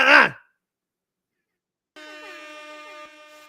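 After a short burst of sound and a silent gap, a loud, blaring air horn blasts with a steady buzzing tone until the end.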